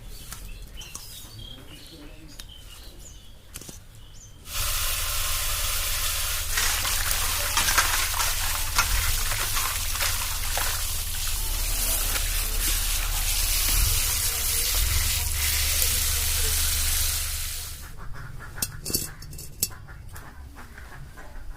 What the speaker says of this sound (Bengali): এবার মাছগুলোকে প্রথমে ভেজে নেব